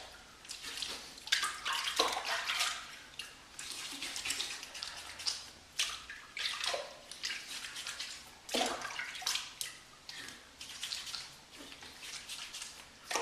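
Safety razor rinsed under running tap water, a steady close splash and patter of water with short bursts and drips as the blade is moved through the stream, no talking.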